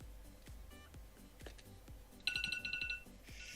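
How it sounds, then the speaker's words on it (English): Phone alarm ringtone going off in a room, a bright repeating electronic melody of short beeping notes that starts abruptly partway through and plays loudly over a background of faint ticking and low thumps. "So that's my alarm for my normal"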